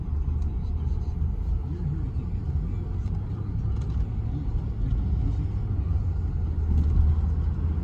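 A 1992 Lincoln Town Car Executive with about 220,000 miles cruises down the road, its low, smooth engine and road rumble droning steadily throughout.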